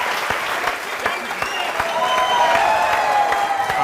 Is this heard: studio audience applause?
yes